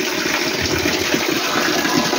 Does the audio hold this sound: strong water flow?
yes